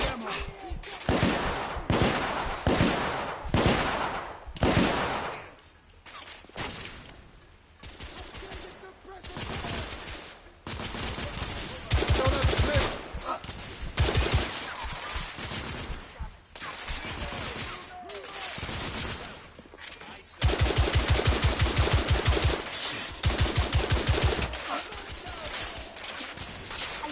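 Heavy gunfire in the video game The Order: 1886, with repeated bursts of fusillade and machine-gun fire running throughout, loud and close, mixed with shouted voices.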